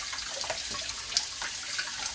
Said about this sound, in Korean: 또 양파도 뭐 깨끗하고 껍질이 좋다고 하니까는 이렇게 깨끗하게 이렇게 씻어주시고